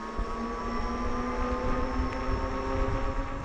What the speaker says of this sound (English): Now only front motor acceleration. 3, 2, 1, full throttle.